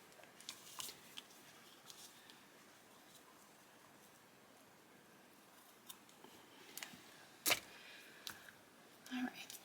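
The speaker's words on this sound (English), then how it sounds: "then I'm going to cut the tails" Scissors snip ribbon tails at an angle for a handmade card, a few quiet close crisp cuts heard in a hushed room.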